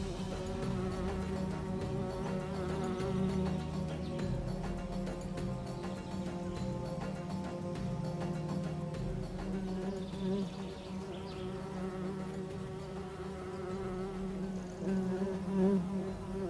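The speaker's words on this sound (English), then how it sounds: "It is the mosquito, a mass murderer, a winged executioner that appears in the depths of the tropical night" Steady insect buzzing in the Amazon jungle at night, a continuous droning hum of mosquitoes that stays close and even throughout, with no speech.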